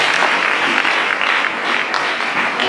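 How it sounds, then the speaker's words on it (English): A school audience at a Class 8 prayer day claps steadily for a student, dense continuous applause filling the space without pause. "Let us clap for Blessing Cherono."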